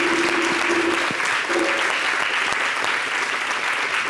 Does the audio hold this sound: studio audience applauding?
yes